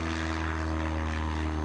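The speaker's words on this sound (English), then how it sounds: "He's flying that plane." A propeller airplane drones steadily overhead, a continuous buzzing engine hum with strong harmonic tones, loud and unbroken without any voices.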